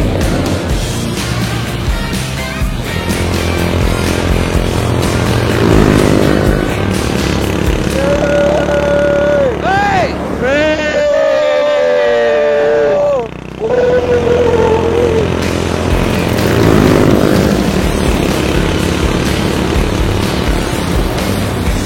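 A small motorbike engine buzzes like a toy bike, rising and falling in pitch as it revs past, heard loudly alongside several people talking.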